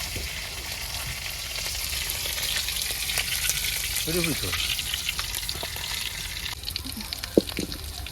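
Hilsa fish fries in oil in a pan over a village kitchen fire, a dense, continuous sizzle with occasional stirring clatter and a sharp click near the end.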